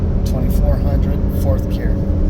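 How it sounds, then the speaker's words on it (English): Cummins HO diesel truck with a Monster Ram intake and factory air box, towing a 12,000-pound camper at highway speed; a steady low drone runs beneath someone talking. "It still has the factory air box, so you're hearing the sound of the Monster Ram"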